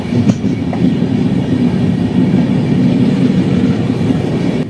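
A train runs along the rails in Kerala, crossing a bridge, with a steady, loud rumble of wheels and carriages that continues without a break for the whole stretch.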